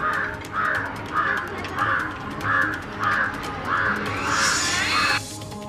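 Crows caw repeatedly in a steady rhythm, loud and near, about nine calls in a row before a brief rushing noise ends it.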